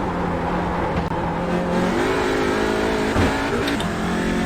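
A touring race car engine revs hard at Long Beach in the iRacing game, a loud, continuous droning roar with rising and falling pitch as it accelerates.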